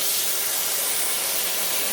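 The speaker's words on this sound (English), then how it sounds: "we're going to add 2 cups of hot water, boiling water" Boiling water poured into a pot of rice for Portuguese rice sends up a loud, continuous steam hiss and sizzle, close and unbroken, with no voices over it.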